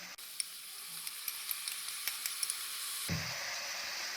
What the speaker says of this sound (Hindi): अब हम ये मिक्सचर टोफू में पोर करेंगे।